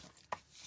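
One crisp close snip as a blade cuts through a sheet from a 12x12 paper pad, a single brief sharp cut against a quiet background.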